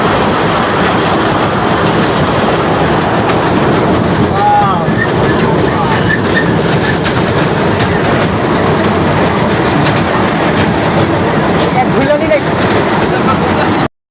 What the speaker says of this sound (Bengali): এখন আপনারা শুনতে পারছেন ট্রেনের ছকঝাকানি।